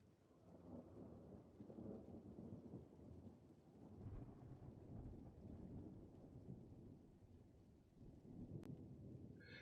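Thunder rolls continuously through a stormy scene in the horror game Remothered: Tormented Fathers, low rumbling swells and fades for nearly ten seconds over steady rain, fairly quiet and with no voices.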